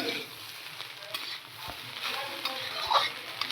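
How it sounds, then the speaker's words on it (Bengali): Homemade chowmein with carrot and capsicum stir-fried in a pan, a soft continuous sizzle under intermittent spatula scrapes and stirring, close by and fairly quiet, with no voices. "এখানে একটু ভালো করে ভাজতে হবে নাহলে কাঁচা কাঁচা থেকে যাবে"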